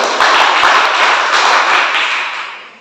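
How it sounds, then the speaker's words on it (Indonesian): A church congregation at a service in NTT breaks into loud, dense applause, a sharp burst of many hands with a few distinct claps, fading out toward the end of the short stretch. "Tepuk tangan dulu deh untuk teman-teman"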